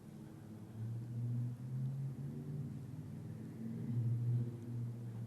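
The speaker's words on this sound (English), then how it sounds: "Maybe right now it's with the sound of the car outside." A car passes outside during a quiet indoor meditation session, heard as a low, steady rumble that swells and fades gently over several seconds with no talking.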